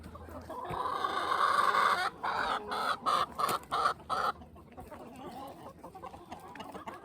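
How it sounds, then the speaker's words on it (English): Chickens in a backyard flock of about 75 birds cluck steadily, with a rooster among them; a loud burst of overlapping clucks and squawks comes in pulsing bursts before settling into quieter scattered calls, with no talk. "good morning from the chickens."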